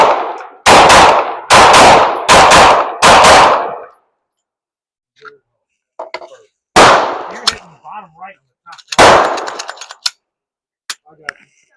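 Rifle fired at an outdoor shooting range with an ALG trigger installed, a rapid string of four loud close shots, then a pause with small clicks and handling noises before two more sharp single shots, followed by faint clatter.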